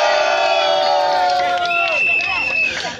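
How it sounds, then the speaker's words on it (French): A political crowd cheers and shouts in support, a loud sustained roar with whistles and raised voices overlapping, dense and continuous across the whole stretch. "Est-ce qu'on peut applaudir pour ceux qui disent bravo?"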